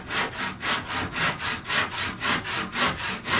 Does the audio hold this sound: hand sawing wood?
yes